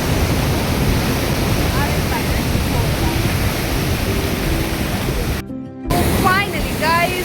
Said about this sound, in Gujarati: અમારી પાછળ મોજા, બહુ જ વધારે મોજા આવી રહ્યા છે